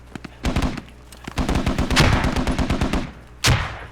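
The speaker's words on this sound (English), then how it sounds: "That's from a grenade." Rapid automatic gunfire rattles in bursts during a Squad firefight, ending with a single sharp, loud explosive blast that fits a grenade going off nearby.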